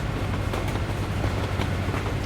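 A train rumbles past in Euro Truck Simulator 2, a steady, dense low roar with rattling wagon noise that holds evenly throughout the short stretch.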